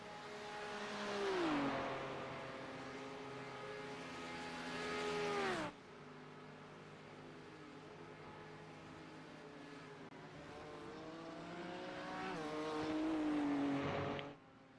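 GT3 race cars in a sim racing game scream down a long straightaway, engines climbing in pitch through the gears with sharp drops at each shift, one car passing close before another winds up loudly again.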